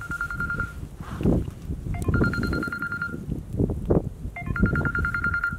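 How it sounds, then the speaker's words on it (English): A mobile phone ringtone chirps in repeated electronic trills, ringing twice over a muffled, rustling background at a snowshoe camp by a dying fire. "My phone's ringing. What an interruption."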